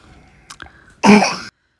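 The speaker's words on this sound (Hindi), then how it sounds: "वो खांस रहा है" A toddler with a cold gives one loud, harsh cough burst lasting about half a second, preceded by a couple of faint short sounds, close by and alone.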